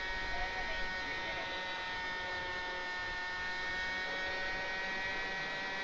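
Hobby-King Cessna TTX RC plane motor at full throttle, a steady high-pitched electric whine with a strong harmonic buzz holding level throughout, somewhat distant, with faint speech underneath.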